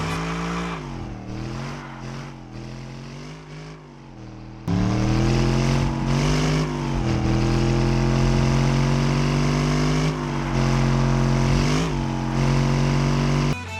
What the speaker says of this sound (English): the car sound have been improved